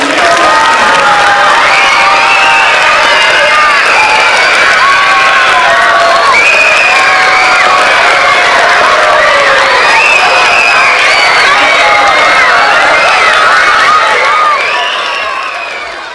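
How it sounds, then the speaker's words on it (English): Children cheer, whoop and clap loudly for their teachers and school staff at a gathering celebrating Elizabeth Scott's national award. The crowd noise holds for about fifteen seconds, then fades. "I want you to turn around, and I want you to clap for them"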